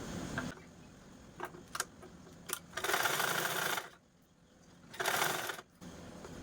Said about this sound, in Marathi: चार इंचापर्यंत मी इथे स्टिच करून घेते अगोदर